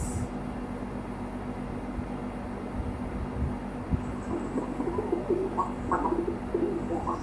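A pigeon coos softly in low, repeated murmuring calls over a steady background hum, growing a little more active toward the end.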